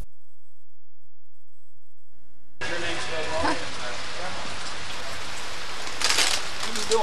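Steady rain falls outdoors in Kentucky near a campfire, arriving as a broad, even hiss after a quiet start, with louder gusts of patter toward the end.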